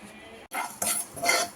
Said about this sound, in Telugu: మెంతులు, జీలకర్ర ఇలా దగ్గర ఉండి ఫ్రై చేసుకోవాలండి.